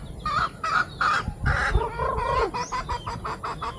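Several hens cluck and squawk in quick, overlapping bursts close by while feeding on sweet potatoes at a campsite, with short rhythmic calls and a few louder cackles.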